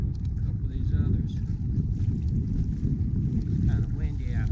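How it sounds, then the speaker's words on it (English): Wind at Cascade Lake, Idaho, buffets the microphone with a continuous low, rumbling roar that stays fairly steady throughout, and faint higher sounds drift in over it. "It's kind of windy out there"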